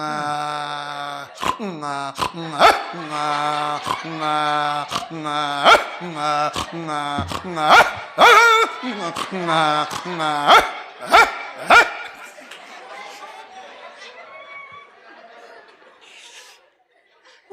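During a comic Marathi bharud folk performance, a voice imitates dogs barking, giving a quick run of rhythmic yaps that trail off into laughter and fainter vocal sounds.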